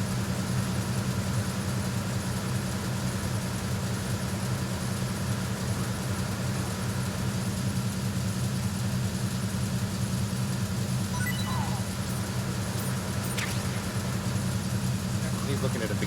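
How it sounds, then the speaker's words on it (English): Loud, steady engine room ambience in the Metal Gear Solid 2 video game, a constant low mechanical hum and rumble filling the whole stretch with no breaks. "Sorry, I know the engine room's kind of loud."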